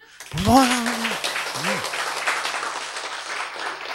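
Audience applause at a Korean church sermon follows a loud voiced shout, then keeps up as a dense, steady wash of clapping that sits close and fairly loud.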